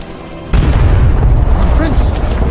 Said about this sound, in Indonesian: Seketika bom itu pun langsung meledak